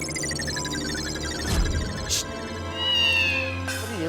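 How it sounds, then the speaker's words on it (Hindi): A cat meows several times inside a home, with drawn-out plaintive cries, one rising and stretching near the end, close and clear over a musical background. "बिल्ली"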